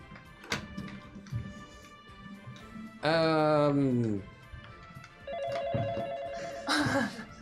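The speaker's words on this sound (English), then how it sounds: "her phone rings, and she answers the phone and takes the call" A telephone rings once with a loud harmonic bell tone and later a steadier ring tone, on a morgue's front desk in a comic scene, with background room noise.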